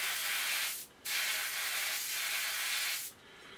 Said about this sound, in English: I think some of the seals might need replacing on my airbrush, but at the moment it's still spraying okay